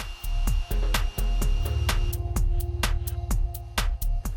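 An automatic hot-air welding machine runs along PVC roofing membrane, a steady motor drone with a constant high whine, broken by repeated sharp clicks and knocks at irregular intervals, close and loud with no talking.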